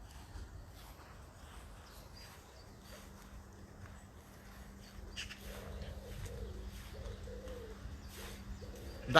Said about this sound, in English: That, however, is the sound of summer, the sound of the wood pigeon for me, the glorious noise.